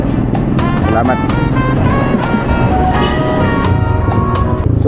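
A motorcycle heavily loaded with sacks of rice and trays of eggs rides along a drizzly road, its engine droning steadily throughout beneath a layer of music, close and fairly loud.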